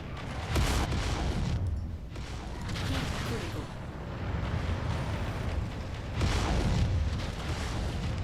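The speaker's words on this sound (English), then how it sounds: "Who's over here shooting at me?" Weapon fire from enemy mechs in MechWarrior 5, a steady barrage of heavy booming shots and blasts rumbling continuously, swelling louder around the start and near the end, with a voice talking over it.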